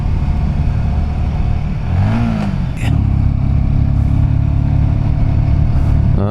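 A motorcycle engine drones loudly while riding on the road toward Kaza, with one rising rev, a brief dip in the noise, then a steady throttle hum.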